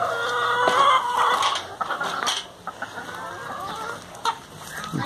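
Chickens cluck steadily in a backyard coop, several birds close by, with a brief crowing note mixed in and a few sharp knocks over a busy, continuous farmyard background.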